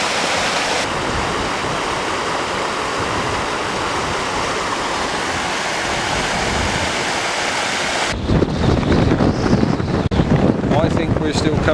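River rushing over rocks in a rocky Dartmoor valley, a steady broadband roar of flowing water heard close up, joined partway through by heavy wind buffeting the microphone.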